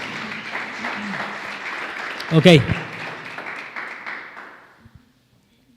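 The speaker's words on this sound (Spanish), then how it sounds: "Vamos a darle un lindo aplauso al Señor" Church congregation clapping together at a Spanish-language sermon, a steady broad patter of applause that swells briefly near the middle before fading out to quiet, with a voice speaking over it.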